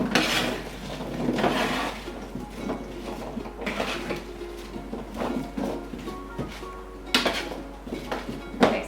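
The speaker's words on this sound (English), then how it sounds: "And then I'll just toss them together to mix it all up." Brussels sprouts seasoned with salt and pepper are tossed together in a pan or bowl, giving a steady run of close rattling, scraping and knocking of produce against cookware, with sharper clatters near the start and end.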